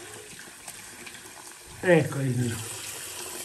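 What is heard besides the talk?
hot water running from a tap for shaving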